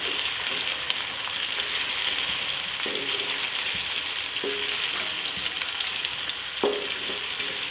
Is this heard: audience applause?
no